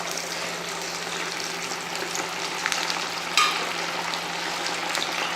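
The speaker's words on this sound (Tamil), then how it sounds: "கடைசியாக பக்கோடாவை பொரிச்சிக்கலாம்" Chicken pakoda fries in hot oil with a constant, bubbling close sizzle and an occasional brief sharper crackle or clink, steady throughout without any speech.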